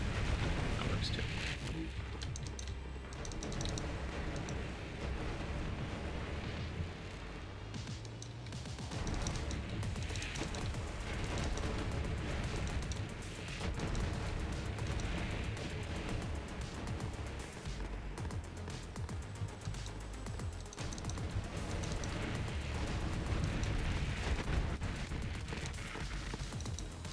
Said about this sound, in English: Heard you guys like the rat explosion noise, so I figured I'd trigger it a few times for you.